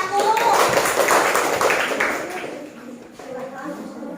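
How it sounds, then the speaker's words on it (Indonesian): Schoolchildren in a classroom water-cycle lesson clap for a group of classmates. The clapping is lively at first, then fades after about two seconds as children's voices carry on. "Tepuk tangan untuk kelompok 1."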